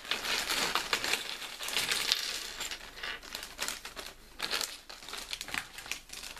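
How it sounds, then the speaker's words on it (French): Crinkling and rustling of a thin Playmobil plastic bag as it is cut open with a cutter, with close, irregular bursts of crackle and handling noise and no talking. "Donc hop le sachet. Donc je vais ouvrir un petit coup de cutter."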